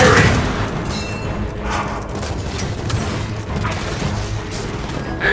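Dense gunfire and booming impacts from Gears of War 4 combat, sustained loud bursts with heavy low rumble throughout, mixed with battle clatter and occasional shouted voices.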